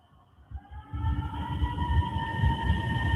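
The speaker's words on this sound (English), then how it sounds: "I hear coyotes going." Coyotes howl at night in rural Ohio, a chorus of high, wavering, sustained wails that swell louder after the first second and carry on continuously over low rumbling background noise.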